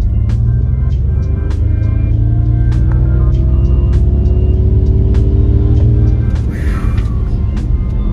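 A 2024 Ford Mustang Mach-E GT electric SUV accelerates hard from a standstill, a loud, steady low drone with a rising whine and road rumble, heard from inside the cabin, with faint clicks and knocks over it.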